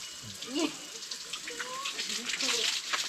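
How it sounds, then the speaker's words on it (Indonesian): Water pours steadily from a spout at Air Keramat Cikajayaan, a sacred spring, splashing and gushing close by while a person speaks over the flow. "ini pancuran yang kedua. Air Keramat Cikajayaan."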